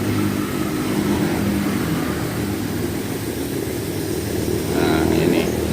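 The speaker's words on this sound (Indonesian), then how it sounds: "Ini suatu contoh mesin penyacah sampah ya, mesin penyacah sampah" A waste shredder (chopper) machine runs with a steady, loud mechanical drone and low rumble, getting slightly louder near the end.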